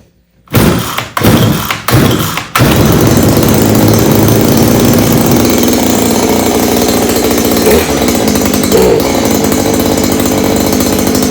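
A Stihl KM94R string trimmer engine catches after a few short pull-start bursts, then runs loud and steady at close range.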